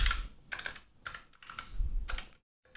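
Fingers tap on a computer keyboard during a coding session, irregular clusters of close, crisp keystrokes with short pauses between bursts.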